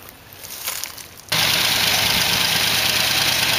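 A 1956 Imperial with a 354 Hemi V8 cranks and abruptly catches, then settles into a loud, steady idle close by after a brief quieter stretch of starter and shop noise.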